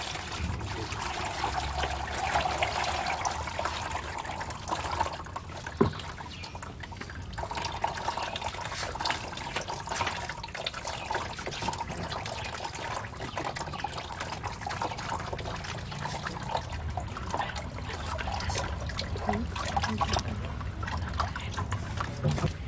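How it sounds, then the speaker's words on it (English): Wet clay slurry poured through a sieve and pushed down by hand, giving a steady watery trickle and pour that runs throughout at close range. "So what we do is that we pour inside the sieve."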